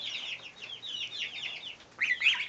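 Two-week-old goslings and chicks in a brooder barn give a steady stream of high peeping and chirping calls, close and continuous, with a louder burst near the end.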